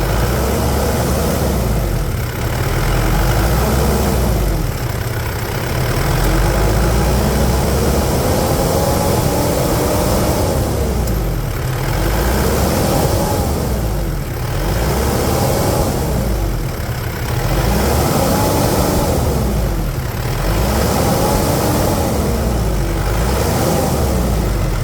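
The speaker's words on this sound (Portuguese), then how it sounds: "Isso é um motor, né? Isso é uma usina de força." A Mitsubishi Pajero Dakar pickup truck's engine runs loud and close, rising and falling through repeated rev cycles in a rhythmic pattern, with no one speaking.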